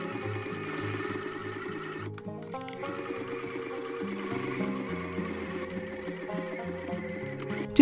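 A sewing machine stitches lining pieces together along a 1 cm seam allowance for a drawstring treat bag, running steadily and close with a rapid mechanical whir that pauses briefly partway through.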